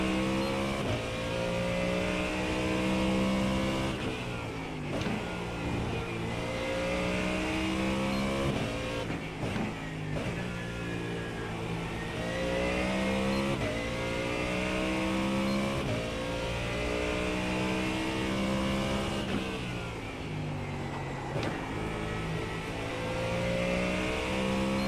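NASCAR race cars lapping the short oval at Bristol, a continuous loud engine roar with repeated rising and falling revs as cars pass and accelerate, no voices.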